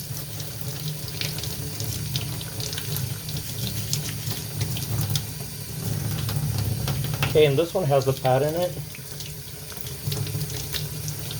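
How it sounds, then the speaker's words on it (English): Water runs steadily from a tap, splashing continuously as it flushes a gunk-filled ink absorber pad from an HP Officejet 100 Mobile printer, with a person talking briefly over it partway through. "So we're gonna run water through it and just kind of flush it, agitate a little bit."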